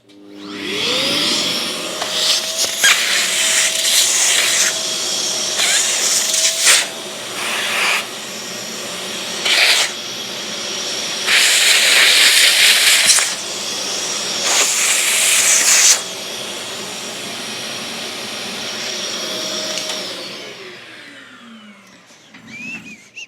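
A vacuum cleaner whines steadily for about twenty seconds, sucking drilling dust out of freshly drilled holes, its suction pitch surging and roughening in bursts as debris is drawn in, then winds down.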